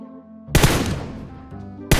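Gunfire in the video game PUBG Mobile, with a loud, close burst of two rapid shots trailing into a fading echo, then another sharp shot right at the end.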